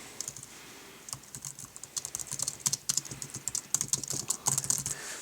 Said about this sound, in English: So let's just start typing.